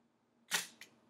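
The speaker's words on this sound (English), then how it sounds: "the sound that the shutter makes is pretty loud" A Leicaflex SLR film camera with a Summicron 50mm R lens fires its shutter once, a loud, close mechanical clack with a quick second snap as the mirror returns.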